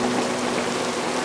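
Steady rain falling outdoors, a dense even patter of drops on surfaces filling the short stretch with no voices.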